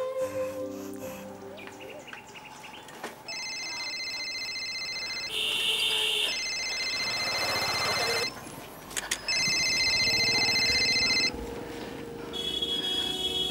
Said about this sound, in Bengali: আমি তোর বাবাকে এক্ষুনি ফোন করছি।